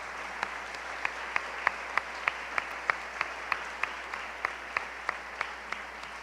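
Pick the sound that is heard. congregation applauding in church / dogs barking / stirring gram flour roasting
congregation applauding in church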